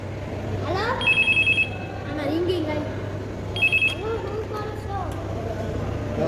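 A telephone at a science exhibition rings twice in short electronic bursts, set apart by a few seconds, over steady crowd hubbub with people talking nearby.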